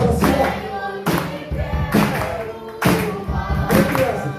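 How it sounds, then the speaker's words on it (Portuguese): A church congregation claps in time with a worship song during a family service, sharp claps landing roughly once a second over singing and instrumental music. "As palmas assim, ó."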